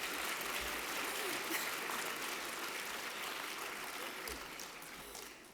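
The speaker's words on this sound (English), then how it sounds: "Yes, we can clap for that." An audience claps steadily at an award ceremony for Excellence in Science, Mathematics, and Engineering Mentoring, a dense, even patter of many hands sustained for several seconds and slowly thinning toward the end.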